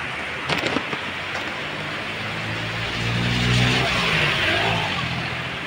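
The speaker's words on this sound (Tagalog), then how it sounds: "Awa, nabunok yung ulan." Heavy rain pours in a steady, dense hiss, loud and continuous, swelling slightly midway with a few faint voices underneath.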